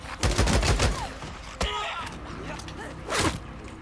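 Rapid machine gun fire in the Days Gone video game, a dense burst of shots up front, then scattered single cracks and a later burst near the end, with some background game noise.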